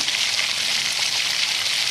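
A spice paste of chili powder with a little water fries in a pan, giving a steady, even hiss and sizzle with no gaps.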